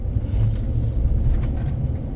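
A 2004 Nissan Titan pickup pulls away with a close, steady low engine rumble that stays even throughout.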